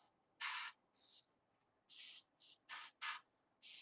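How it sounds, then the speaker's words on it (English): Eight short bursts of airbrush or aerosol paint spraying onto a miniature figure sculpt of Death from Darksiders, each hiss lasting a fraction of a second with brief pauses between, close and fairly loud with no talking. "I'm just gonna spray it in to the sand here and there, not everywhere."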